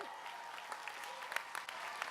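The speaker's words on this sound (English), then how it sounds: "We can clap just for Cisco" An awards ceremony audience for a youth tech challenge claps for a sponsor, giving faint, steady applause from a roomful of people at a distance.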